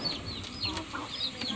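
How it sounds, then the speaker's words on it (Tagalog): Backyard chickens cluck steadily after being scattered feed, with overlapping clucks and calls from several birds nearby at moderate volume. "kay mama na pong pinakain po yung mga manok pong alaga"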